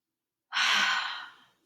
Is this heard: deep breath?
yes